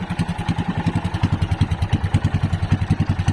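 Fishing boat engine misfiring at close range, a loud, steady chugging pulse with uneven, sputtering beats running throughout, no voices.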